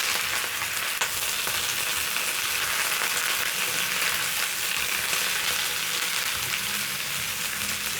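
Spinach frying in butter in a pan gives a steady, close sizzle and hiss that runs the whole time, with no voices over it.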